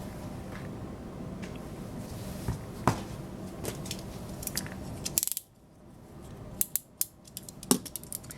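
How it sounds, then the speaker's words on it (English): Scissors snip through the corner of a paper-covered box being mitered during box-making, a few close crisp cuts and small clicks with handling noise, no talking. "I'm going to take my little triangle here and cut this corner off so that it's all mitered."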